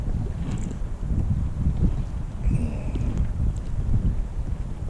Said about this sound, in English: especially due to the windy conditions